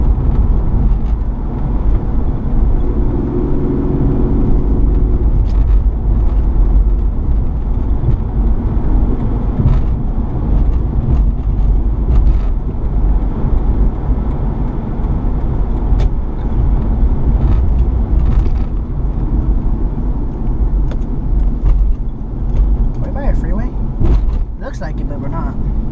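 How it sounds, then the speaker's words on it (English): Road traffic in Los Angeles, around Inglewood and South Central, rumbles continuously from inside a moving car, a loud steady engine and road roar with passing vehicles and a voice underneath. "Traffic during the daytime."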